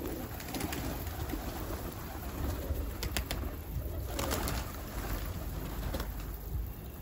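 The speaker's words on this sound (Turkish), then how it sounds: "Kuş şurada geziyor yerde." Pigeons walking about on the ground give soft cooing calls amid steady outdoor background noise, with a few brief higher chirps standing out over the continuous hiss.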